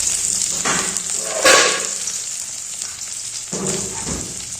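Bay leaves, whole spices and chopped onion fry in hot oil with a loud, close, continuous sizzle that swells briefly as ingredients hit the pan, with soft stirring and no talking.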